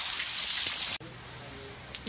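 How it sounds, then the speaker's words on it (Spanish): Heavy rain from tropical storm Hilary in San Diego: a loud, dense, steady hiss fills the first second, then cuts abruptly to a quieter, softer patter with faint background sounds. "Llueve, no para de llover"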